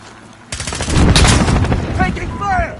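Heavy gunfire in Call of Duty Modern Warfare, a loud sustained burst of rapid shots starting abruptly, with short voice fragments mixed in near the end.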